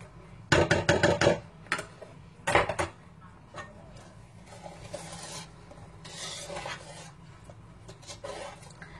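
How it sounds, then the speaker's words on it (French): Tiramisu-style cake batter being folded from bottom to top with a utensil, giving soft wet scraping strokes, a few louder bursts early, then quieter continuous stirring. "Je mélange de bas en haut, du bas en haut, sans casser la préparation bien évidemment."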